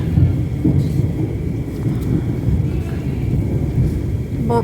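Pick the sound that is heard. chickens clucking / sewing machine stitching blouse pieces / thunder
thunder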